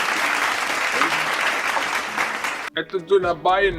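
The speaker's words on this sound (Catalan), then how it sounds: "Sempre un fort aplaudiment per l'abuela" An audience gives the grandmother a burst of steady, dense clapping that stops abruptly after under three seconds, followed by a voice speaking.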